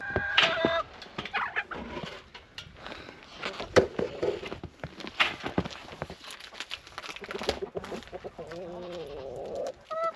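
Chickens cluck and squawk in irregular bursts close by, with scratching and shuffling noises between the calls.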